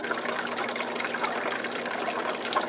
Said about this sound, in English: I went ahead and reversed the water flow, so we are now filling the tank back up